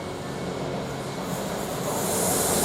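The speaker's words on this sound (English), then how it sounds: "now we're going to focus on more on this freight train now" A Class 66 freight train passes through a station with a loud, steady rushing roar and hiss of wheels and wagons filling the whole stretch, growing slightly at the end.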